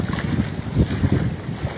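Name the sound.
cyclone tidal floodwater rushing in, wind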